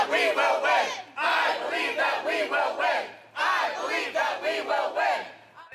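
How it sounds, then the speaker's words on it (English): Union Starbucks baristas picketing outside a Starbucks on Mass Ave chant in unison for a fair contract, loud, close and rhythmic, the chant repeating in two surging rounds with brief pauses between phrases. "That's the crowd chanting outside the Starbucks on Mass Ave."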